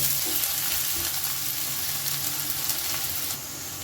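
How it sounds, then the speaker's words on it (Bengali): Chopped onions fry in a pan for a stuffed brinjal dish, giving a steady, close, fairly loud sizzle throughout with slight stirring noises and no talk. "পেঁয়াজটাও খুব সুন্দর করে ভেজে নেব"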